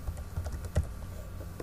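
Typing on a computer keyboard, a short burst of soft, quick key clicks with one slightly louder tap, close and quiet, with no voices.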